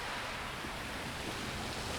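Ocean waves wash in as a steady, full broadband surf roar that holds loud and unbroken throughout, with no voices.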